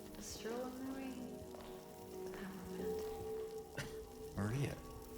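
In the Silent Hill 2 Remake video game, rain falls with a steady hissing patter under several stretches of voiced dialogue.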